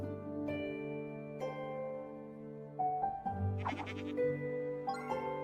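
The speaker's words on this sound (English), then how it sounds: "in the goats guiding minigame, you have to press the button at the right time" Goats bleating in a cozy video game's goat-guiding minigame, several drawn-out wavering bleats overlapping one another at close range, with a few higher, sharper calls toward the end and no talking.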